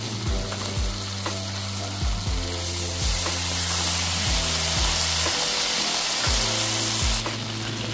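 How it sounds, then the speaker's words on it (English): Minced garlic frying in melted butter in a skillet, a dense, steady sizzle over a low rhythmic tapping, close and fairly loud throughout. "Once melted, add 2 tablespoons of minced garlic."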